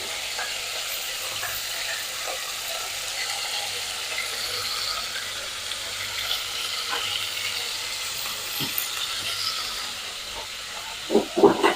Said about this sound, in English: So I'm just going to cook half this steak.